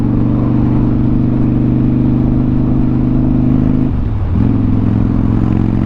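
A 2013 Harley-Davidson Dyna Wide Glide engine pulls hard under load with a loud, steady mid-pitched drone, briefly dipping as if shifting gears before climbing again, close and without talk.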